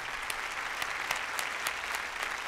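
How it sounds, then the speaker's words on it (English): Audience applause for a record scholarship recipient: dense, steady clapping at an even level with a few sharper individual claps standing out, and no voices over it. "Give him a huge round of applause."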